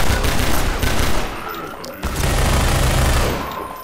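Sustained rapid submachine gun fire in Half-Life 2, dense continuous bursts of automatic shots close and loud, with a short break midway before firing resumes.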